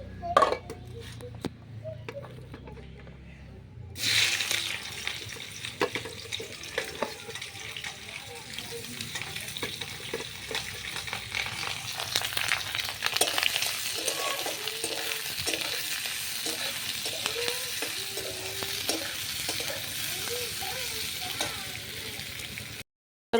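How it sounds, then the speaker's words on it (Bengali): Onion, chilli and bay leaf fry in hot oil for a moong dal masala, giving a steady close sizzle with occasional stirring and scraping that runs almost unbroken after a quiet start. "তো মুগের ডালের মশলা সাতলাবো"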